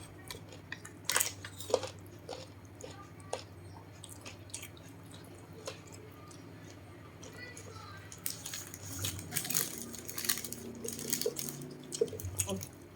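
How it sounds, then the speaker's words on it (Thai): Close, crunchy chewing of boiled pork stomach from a spicy offal soup and larb eaten with sticky rice, with scattered wet clicks early on and a denser run of crunching bites near the end. "กรึบมาก เสียงเคี้ยว"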